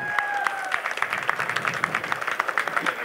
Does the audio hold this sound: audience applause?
yes